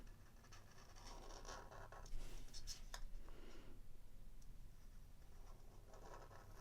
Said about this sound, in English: I can easily write or draw over them.